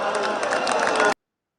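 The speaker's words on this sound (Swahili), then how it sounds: "Wapi makofi ya seneta?" A crowd claps and cheers loudly together, then the sound cuts off abruptly after about a second.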